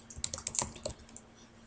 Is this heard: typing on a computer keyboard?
yes